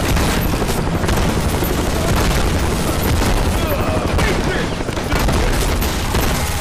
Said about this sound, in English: Damn, yo, mass explosion!